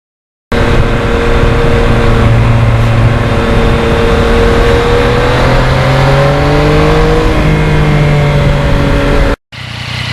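A 2020 Yamaha MT-09 motorcycle on a ride, its engine a loud, steady close drone whose pitch rises and shifts as the rider accelerates through the gears, with no talking.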